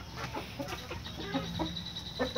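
A breeding rooster on a Brazilian farm clucks in short bursts over a busy background of other fowl, moderately close and continuous, with no clear crow and no talking.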